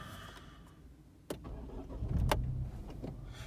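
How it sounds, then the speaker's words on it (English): Ford Fiesta ST Mk8 with a Revo Stage 1 tune: a click as the ignition turns on, then the engine cranks and catches, settling into a low idle rumble, heard from inside the car. "Turn on the ignition."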